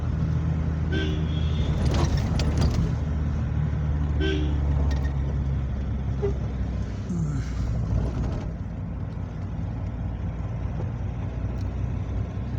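A vehicle drives down winding hill roads, its engine a constant low rumble with brief honks early on and faint distant voices beneath the steady road noise.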